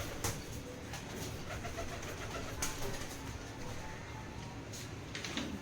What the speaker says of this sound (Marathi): तर बघा बसले कबूतर.